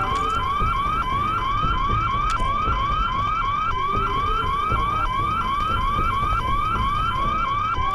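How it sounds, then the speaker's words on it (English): A sweeping electronic alarm wails without pause in Hitman: Blood Money, its rising tone repeating about once a second over a steady low rumble of game ambience. "I know this alarm can be very annoying."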